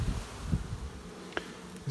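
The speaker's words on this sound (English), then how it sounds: "A lot of bees in here." Bees buzz inside a mini nuc hive during queen rearing, a faint, steady insect drone with a brief sharper sound near the end and no talking.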